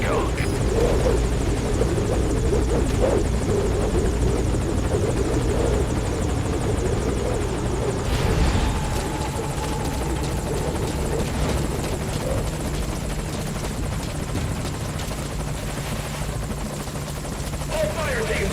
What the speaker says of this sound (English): Focus all your fire on that enemy chopper.